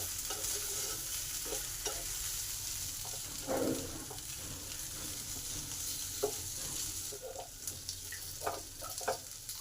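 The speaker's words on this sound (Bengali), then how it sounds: "সেদ্ধ পাস্তাগুলো দিয়ে দিলাম। এইগুলোকে ভালো করে" Boiled pasta frying with chilli powder and Maggi masala, a low steady sizzle under scattered scraping stir clicks from a spatula throughout, with no voices.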